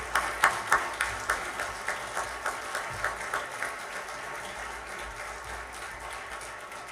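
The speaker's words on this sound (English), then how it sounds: "let's give them a round of applause and leave the stage" A conference audience at a climate tax debate claps, starting with loud sharp claps that quickly thin and fade into a softer, sustained patter over several seconds.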